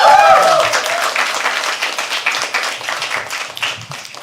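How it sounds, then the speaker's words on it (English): Dense applause from an audience at a live poetry open mic, steady and sustained throughout, with a brief voice rising over the clapping at the start. "Can we please have another round of applause?"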